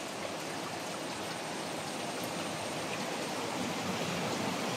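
Steady broadband rush of flowing water, like a small stream running nearby, continuous and even throughout with no voices.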